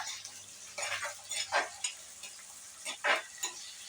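Garlic, ginger and onion are stirred in a hot pan, with a soft, quiet sizzle broken by several brief, uneven spatula scrapes and clinks.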